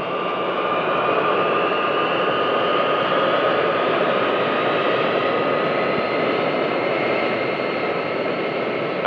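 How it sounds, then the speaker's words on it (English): A 1960s jet airliner taxis toward the end of the runway, its engines holding a loud, steady whine and broadband roar with a faint high tone, unchanging and close throughout with no talk. "receives clearance to taxi to the end of the runway"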